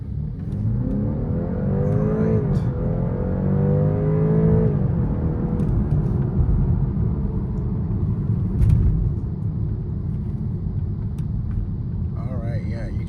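A 2023 BMW 530e in sport mode accelerating hard during a speed test, its engine rising in pitch over a steady road rumble and cabin hum, loud and continuous, with a voice talking over it.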